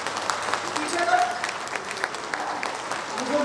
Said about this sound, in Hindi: मैं आप लोग सबसे ताली बजाना चाहती हूँ।